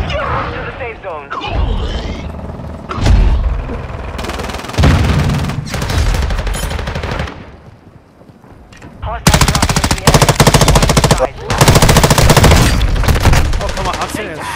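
Machine gun fire in the video game Call of Duty Modern Warfare 2 Warzone comes in loud, rapid bursts with brief gaps, mixed with other game sounds while a player talks over parts of it.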